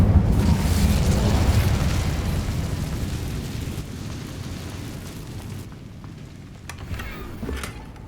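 An Incendio fire spell cast in Hogwarts Legacy, a loud whooshing burst of flame that rumbles and roars, then slowly fades out over several seconds, with faint crackles near the end.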